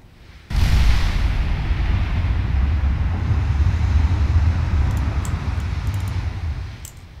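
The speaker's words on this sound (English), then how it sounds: "The ship could do a turn and keep firing." Warship naval guns fire in Ultimate Admiral Dreadnoughts: one heavy, close boom erupts after a brief quiet and rolls into a long, low rumbling decay, with faint clicks near the end.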